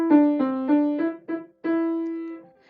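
Mary Had a Little Lamb plucked out on piano starting on middle C, a handful of short notes and then a longer held note ringing away, played alone.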